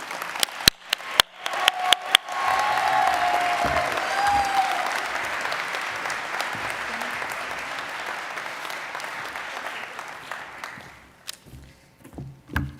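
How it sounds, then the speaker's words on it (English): A conference audience at the NCECA closing ceremonies breaks into sustained applause, preceded by a few sharp isolated claps and knocks. The clapping stays full and even for about eight seconds before tapering to scattered claps. "Let's give a round of applause for Marissa"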